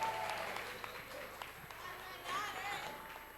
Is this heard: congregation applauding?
yes